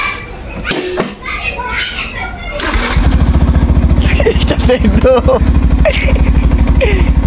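A motorcycle engine is started and then idles loudly with a steady fast chug close by, while children and adults chatter over it at the start.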